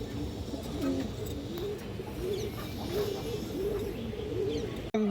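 Domestic Indian high-flyer pigeons coo repeatedly in a low, rolling rhythm close by, with faint chirps behind them and a short thump at the very end.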